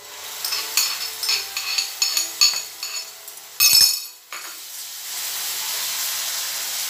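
Masala paste for an egg lababdar gravy frying in hot oil, with a series of sharp spoon clinks and scrapes against the pan over a steady hiss, then a burst of loud sizzle that settles into continuous frying.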